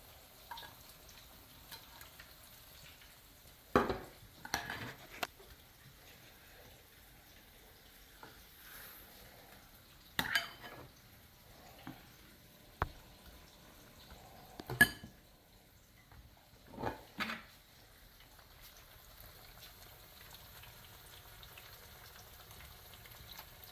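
Plantains fry quietly in a frying pan for a Jibarito plantain steak sandwich, a soft steady sizzle broken by a few sharp clinks and knocks of utensils against the pan.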